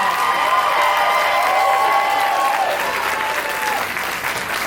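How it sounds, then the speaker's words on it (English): Sustained applause from an audience at a black belt martial arts demonstration, steady clapping mixed with some crowd noise and a few whistle-like tones, holding loud throughout. "So one final round of applause for Alexander the Great, played by your one and only Mr. John John!"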